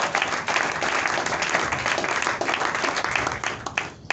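Church congregation applauding together, a dense steady wash of clapping that runs unbroken for about four seconds and tapers off slightly at the end, with no voices rising above it.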